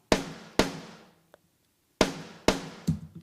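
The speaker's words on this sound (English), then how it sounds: "So that gives me a triggered snare that sounds" A triggered snare drum heard through a room mic hits five times in an uneven pattern. Each hit is a sharp, gunshot-like crack with a short, decaying room tail, and there is a tiny tick in the middle.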